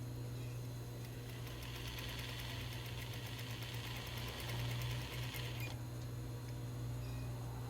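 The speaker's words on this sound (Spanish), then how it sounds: "Nos vamos derechito tratando de ir cosiendo." A sewing machine stitches a dress sleeve hem in a steady, continuous run of rapid mechanical chatter, close and even throughout with no pauses.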